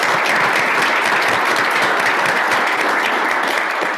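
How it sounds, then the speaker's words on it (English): Loud, continuous applause from a panel discussion audience in Houston, a dense wash of many hands clapping close and steady throughout. "So let's give them a round of applause."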